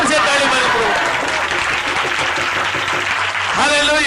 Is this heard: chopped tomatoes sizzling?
no